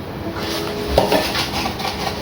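A portable camping stove and gas canister are handled, giving close metallic clinks and knocks with a light scrape, alone and without talk.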